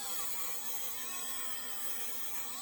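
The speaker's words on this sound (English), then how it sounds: "I like going over the welds with a Dremel afterwards, just because I'm a terrible welder." A Dremel rotary tool grinds over the welds on a new muffler for a Jeep Liberty, giving a constant high-pitched whirring buzz that stays steady and close throughout.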